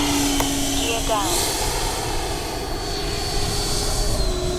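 A Taft Valkyrie 90mm RC jet plane passes low and slow with its landing gear down, a steady loud turbine whine whose pitch shifts as it goes by.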